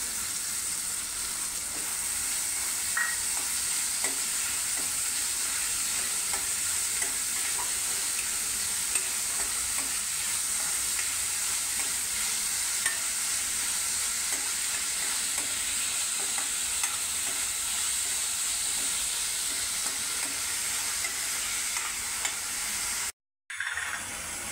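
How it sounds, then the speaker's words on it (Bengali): Onions sizzle steadily in a little oil in a pan and are stirred now and then while cooking a chicken dish, a continuous close hiss with faint scraping, ending in a brief cutoff. "সামান্য একটু তেল যোগ করছি। পেঁয়াজটা মিক্স করবো।"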